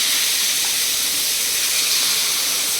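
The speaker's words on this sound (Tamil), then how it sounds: "வாஷ் பண்ணி வச்ச சிக்கனை அப்படியே பாத்திரத்தில் போட்டுருக்கோம்" Washed chicken hits a hot pan with no oil, raising a loud, steady steam hiss that holds unbroken and close throughout.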